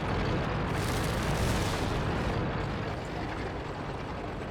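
Artillery fire in the World of Tanks game: a dense, continuous rumbling barrage of booms and blasts, loud and steady throughout with no pauses and no talk.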